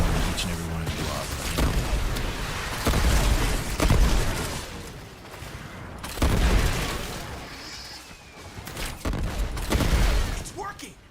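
Explosions and gunfire from the Warframe video game, with repeated heavy booms and bursts of shots rising and falling in loud clusters amid a busy, chaotic mix of combat noise.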